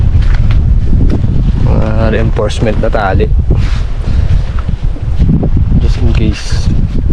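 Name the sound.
strong wind at seaside campsite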